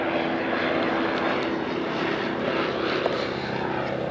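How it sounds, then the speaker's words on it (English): Paramotors fly by overhead at a balloon festival, a steady droning propeller engine hum that holds level throughout, fairly loud and with no talk. "Getting flyby'd by some paragliders. Or, yeah, paragliders. No, not paragliders, paramotors."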